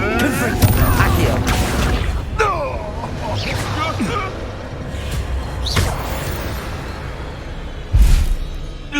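The Confringo blasting spell from Hogwarts Legacy goes off in a loud boom, surrounded by a string of sharp bursts, thuds and whooshes as voices shout over the fight.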